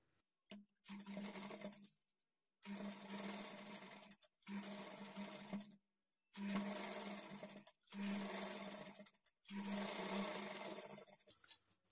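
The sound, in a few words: sewing machine stitching a blouse lining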